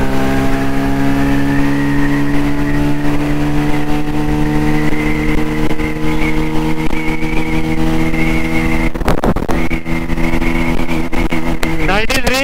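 A motorcycle accelerating through the gears: a loud, close engine drone holds steady, then breaks for a shift and climbs again in pitch near the end.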